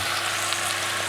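Wilting leaves being stirred in a hot pot give a steady, close sizzle with faint scraping, continuous and even throughout, with no talking.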